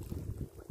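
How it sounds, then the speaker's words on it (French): Wind gusting over the Loire river during float tube fishing, a brief, low buffeting rumble against the microphone with uneven surges. "Comme on peut voir, il y a beaucoup de vent."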